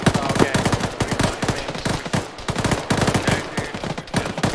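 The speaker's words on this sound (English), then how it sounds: "Stuff getting shot." Dense automatic gunfire in the military video game Arma rattles in rapid, irregular bursts, loud and close, overlapping throughout with no pause.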